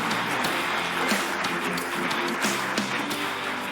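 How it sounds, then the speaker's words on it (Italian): An audience gives a steady, dense round of applause greeting the mayor of Casarza Ligure, many hands clapping together at an even level throughout. "c'è anche il sindaco di Casarza Ligure, che salutiamo con un bel applauso."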